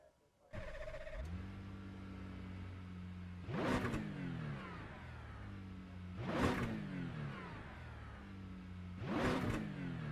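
Simulated Acura NSX GT3 racing car with a 3.5-litre twin-turbo V6 idling, then revved hard three times at regular intervals, each rev climbing sharply and falling back to idle, close and loud.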